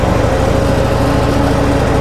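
A Harley-Davidson motorcycle engine pulling away in first gear, a loud, close, steady rumbling drone that holds an even pitch throughout.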